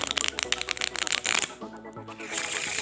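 A deck of playing cards is shuffled close by, giving a rapid crackling riffle followed by a softer fluttering bridge as the cards settle.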